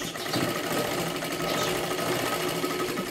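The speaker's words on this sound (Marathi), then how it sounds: "ही 5 नंबरची शिलाई आपल्याला कडेपर्यंत मारायची आहे" A sewing machine runs steadily, stitching a katori blouse seam out to the edge, its motor hum close and continuous without pause.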